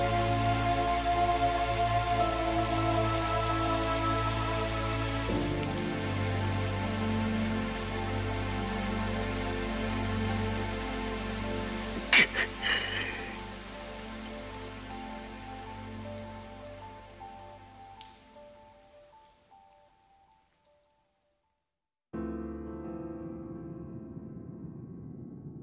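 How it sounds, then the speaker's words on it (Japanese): Steady rain falls on surfaces in an indoor area of the video game Scarlet Nexus, a dense constant patter over a low background tone that fades away, drops to near silence, then returns briefly. "同埋呢个室内嚟嘅，点解会无啦啦落雨嘅咧？"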